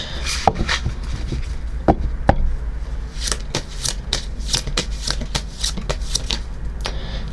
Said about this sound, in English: I'm going to get some cards from this deck.